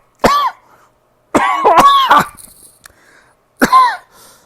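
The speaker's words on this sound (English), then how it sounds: "you just coughed out a lung" Several harsh, heavy coughs from one person, close and loud, come in a burst, then a rapid cluster, then one more hacking cough after a short pause.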